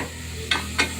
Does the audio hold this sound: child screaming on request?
no